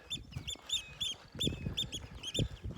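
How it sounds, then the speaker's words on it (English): Shelducks call from a marsh in repeated short, bright quacking bursts at a moderate distance, over a low, uneven outdoor rumble. "There's lots of shell ducks and"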